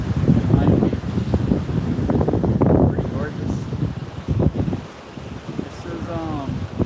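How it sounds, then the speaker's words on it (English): Steady wind gusts rush across the microphone at Siesta Key Beach, Florida, a constant blustery roar with someone talking over it throughout. "Can't tell you for sure if you can hear much because the wind is pretty good out here"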